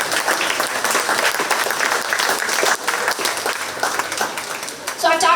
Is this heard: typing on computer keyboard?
no